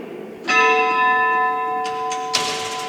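A single bell strike from a restored church clock on a town plaza in Roa marks one o'clock. It rings out loud and sustained, then fades slowly, with some outdoor noise around it.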